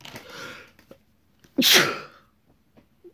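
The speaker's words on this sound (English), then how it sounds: "these figures are so dirty that this making me sneeze" A single loud, sharp sneeze set off by dusty, dirty Teenage Mutant Ninja Turtle action figures, preceded by soft breathy rustling and followed by near silence with a faint short sound at the end.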